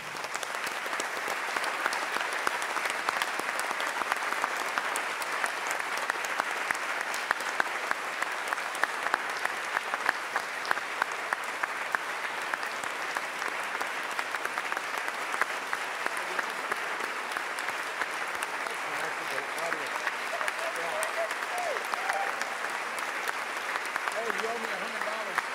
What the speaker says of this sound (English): I would ask my colleagues to join me in giving these officers a round of applause for their day.